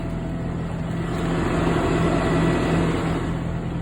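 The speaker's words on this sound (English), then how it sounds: "Now that the truck is on, you just want to make sure that there's no weird sounds." A pickup truck engine idles just after an oil change, a steady low rumble with a faint hum, rising slightly in level midway and heard alone without talk.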